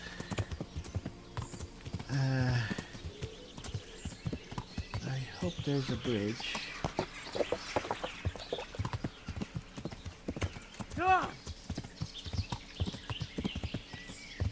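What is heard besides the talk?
horse hooves clip-clopping, from a video game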